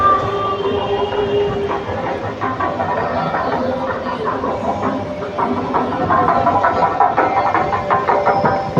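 Train rolling through Kochuveli junction, a steady broadband rumble and clatter lasting throughout, fairly loud and continuous with no clear gaps.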